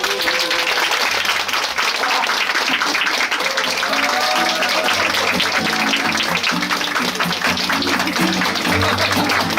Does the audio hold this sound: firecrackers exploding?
no